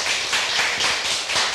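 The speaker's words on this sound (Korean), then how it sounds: "큰 박수로 맞아주세요." Brief, steady applause from an audience welcoming a guest speaker to the stage at a Seoul education community gathering. The dense clapping holds at an even level throughout and no voices are heard.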